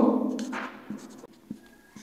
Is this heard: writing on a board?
yes